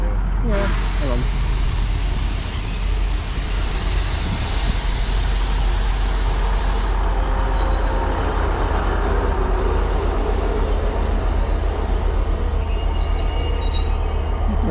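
Shrill, sustained wheel squeal from a Transport for Wales Class 150 diesel unit in new livery at a station platform, loud for several seconds over a deep engine rumble, then fading into quieter rail noise.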